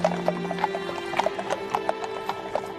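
Horses' hooves clip-clop in a steady, overlapping rhythm on a soldiers' training ride through a cemetery, with several animals sounding close and moderately loud and no talk over them.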